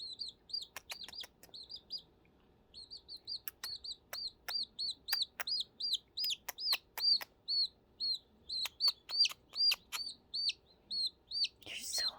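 A blind baby chick peeps steadily and insistently, a long string of thin, high chirps in quick repeated bursts with scattered soft clicks and handling sounds, close by but at modest volume.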